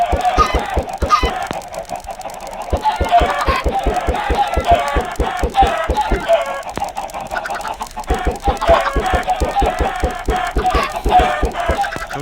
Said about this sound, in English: You see how many chickens are in just one corner?